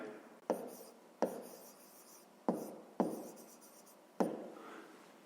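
Writing out a fifth-grade math solution by hand, with five sharp pen or chalk strokes, each tailing off into a scratchy trace, spaced about a second apart. The strokes are close and alone, with no talking.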